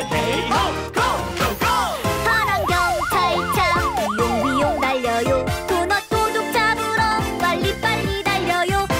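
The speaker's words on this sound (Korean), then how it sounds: "파란 경찰차 비용비용 달려요." A police car siren wails in rapid up-and-down sweeps for a couple of seconds inside a bright, busy Korean children's song about rescue vehicles, loud and sung over by voices and music.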